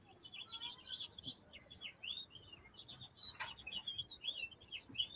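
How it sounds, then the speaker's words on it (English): Birds chirp and sing outdoors, their bright, overlapping calls coming through faintly from outside against quiet background noise. "No, but you can hear the birds from outside as well."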